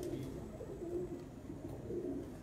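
Pigeons coo in low, soft, repeated murmurs, faint and continuous, with a distant voice under them, at a racing pigeon landing in Punjab.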